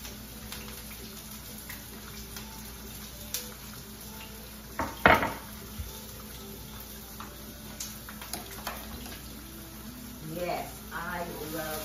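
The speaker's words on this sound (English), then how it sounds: "I'm adding scallions to my squash." Scallions tossed into squash in a pan, with clinks and scrapes of a utensil against the cookware and one sharper clatter midway, over a low kitchen hum with a voice talking.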